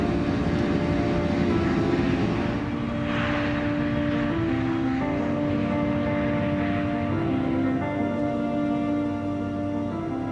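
Airliner engines roar during the takeoff climb as the landing gear retracts, a loud, continuous jet drone with a slight tonal shift partway through.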